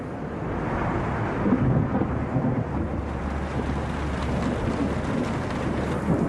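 Steady rain and rumbling thunder pour down over a crane construction site on the Shanghai Tower project, a dense, continuous wash of low rumble and hiss lasting throughout with no voices.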